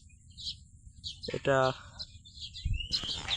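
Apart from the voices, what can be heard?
birds chirping near weaver bird nest in field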